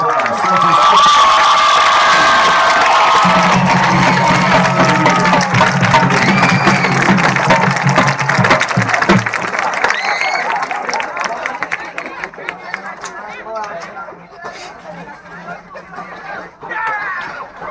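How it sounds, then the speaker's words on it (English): At a high school football game between the Burns Bulldogs and the Cherryville Ironmen, a stadium crowd cheers and applauds loudly for the seniors, with shouts and whistles rising over a sustained roar, then thinning out. "stand up and give these seniors a big round of applause"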